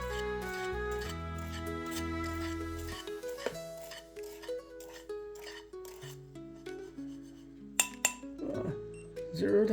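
Ingredients are stirred together in a bowl, with soft rubbing and scraping and occasional sharp clinks of a utensil against the side, accompanied by faint background music.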